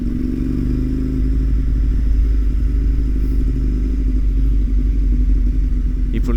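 A Ducati Panigale motorcycle engine idles with a deep, steady, throbbing rumble close by, holding an even level without revving.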